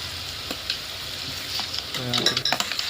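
A brinjal dish simmers in a pan as chili is stirred in, a soft sizzle running throughout with a burst of quick scraping and clinking spoon strokes near the end.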